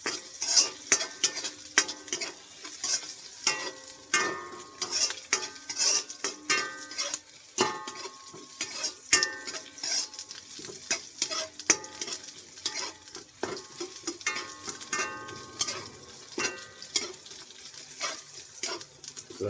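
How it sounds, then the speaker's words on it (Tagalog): Garlic, ginger and onion sautéing in a pan, with steady sizzling and frequent scraping, clinking stir strokes of a utensil against the pan, close and continuous with no voices. "Hintayin lang natin siya mag-golden brown or magiging brown itong bawang at luya at sibuyas."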